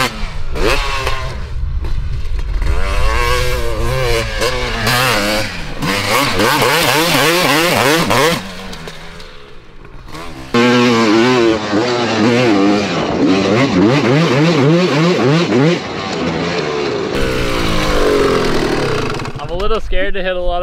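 A 2002 Honda CR250 two-stroke motocross bike rips around a dirt supercross track, its engine revving up and down in rapid bursts, loud and close throughout, with people talking over much of it.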